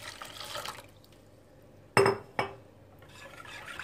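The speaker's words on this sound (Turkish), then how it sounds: "Suyunu koyuyorum yine." Water is poured into a pot of soup during whisking, a faint liquid hiss at the start and end framing two sharp clinks of the whisk against the pot, with no speech.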